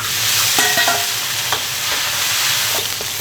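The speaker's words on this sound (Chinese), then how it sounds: "接下来炒个料，油热后先下辣椒、花椒， 芹菜、大葱" Chili, Sichuan pepper, celery and scallion stir-fried in hot oil for a Chongqing spicy grilled fish, with a steady loud sizzle, scattered spatula scrapes and clicks against the wok throughout, no voices.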